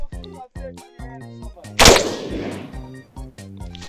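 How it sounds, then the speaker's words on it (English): A single loud gunshot from a live-fire shooting session cracks out midway, its blast decaying into a long echo under steady harmonic tones. "Am I just shooting for it right now?"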